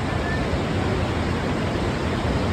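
A strong mountain stream rushes during a waterfall trek in Maharashtra, a dense, loud, unbroken roar of flowing water with no pauses.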